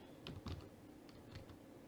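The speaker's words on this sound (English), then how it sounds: "Now let's type Starbucks." Typing on a computer keyboard, a few faint, soft key clicks in a short irregular burst against quiet room tone, with no speech.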